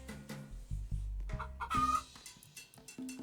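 A chicken clucks in a farm-building video game, giving a few short, nearby clucks over a cluttered bed of game music and effects, with no talking.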